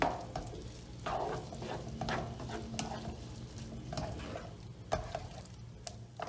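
Tomato paste cooking with butter in a pan, a steady sizzle and frying crackle broken by regular stirring scrapes of a spoon.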